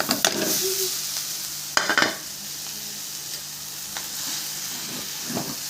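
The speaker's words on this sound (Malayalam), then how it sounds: "നന്നായി ഇളക്കി യോജിപ്പിക്കും." Potato masala sizzles steadily in a pan while being stirred, with a constant frying hiss broken by a few scraping strokes of the spoon and brief clatters, close and alone.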